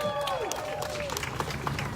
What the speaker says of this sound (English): And a big round of applause for Marilena Durazo, our senator